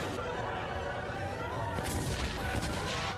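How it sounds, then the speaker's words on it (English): An anime explosion magic blast blows away a whole area with a dense, roaring rumble that swells and sustains for several seconds, loud and alone with no speech. "excited Megumin blows away the whole area with her powerful explosion magic"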